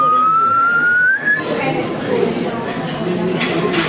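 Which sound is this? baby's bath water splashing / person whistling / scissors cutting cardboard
person whistling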